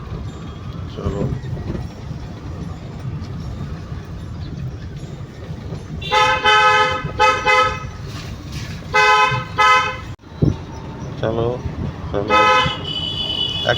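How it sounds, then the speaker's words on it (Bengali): Car horns honk on a busy road during a driving lesson, several short and longer blasts sounding close over a steady engine and traffic drone, with a voice speaking. "হর্ন বাজাও।"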